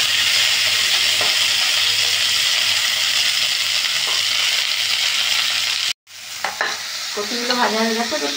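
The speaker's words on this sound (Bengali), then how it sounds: "এবার কপিগুলো ভেজে নিচ্ছি।" Cauliflower florets frying and being stirred in hot oil in a pan, a loud steady sizzle that cuts out briefly near the end, then resumes with scraping and stirring.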